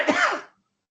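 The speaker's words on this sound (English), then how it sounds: "I know it sounds like I'm coughing up a lung," One short, rough cough close by, a harsh throaty burst that fades within half a second into silence.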